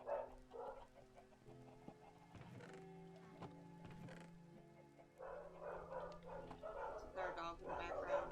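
Dogs barking in the background, several yapping bursts at the start and a denser run in the second half, fairly faint under a steady low hum of game music.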